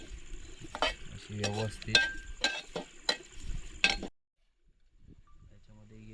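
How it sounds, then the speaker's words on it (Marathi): Food frying in a pan until it turns reddish, with a utensil stirring and clinking sharply against the pan under a soft sizzle while someone talks. Near the end the sound suddenly drops to near silence, then faint sizzling returns. "लाल होईपर्यंत अशी थोडी फ्राय करायची"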